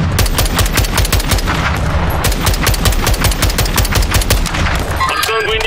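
Rapid automatic gunfire in the video game Call of Duty Warzone 2.0, loud, sharp bursts of shots in quick rhythmic succession, close and continuous over the whole stretch.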